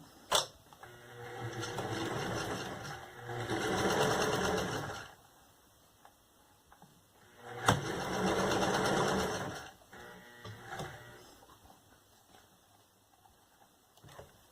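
A sewing machine stitches a zipper in bursts, with two long whirring runs and a few short ones separated by quiet pauses. The machine is close and no one speaks.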